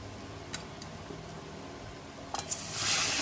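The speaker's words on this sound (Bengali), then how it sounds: "এবার আমি এর মধ্যে জলটা দিয়ে দেবো।" Water goes into cooked-down spiced masala in a hot pan for bhetki fish kalia. Soft frying and a few light clicks build into a bright, hissing sizzle near the end.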